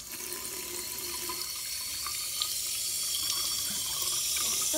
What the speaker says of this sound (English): go ahead and wash your hands